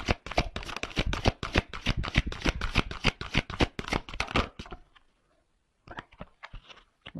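Tarot cards are shuffled by hand in a quick run of crisp riffling flicks for several seconds, followed by a pause and a few softer card sounds.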